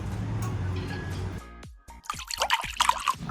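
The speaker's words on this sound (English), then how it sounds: "I'm gonna pour the 4 eggs inside." Four raw eggs plop and slide into a bowl of melted butter and oil for a vanilla cake batter. After a quiet moment come a few close, wet glugs and squishes.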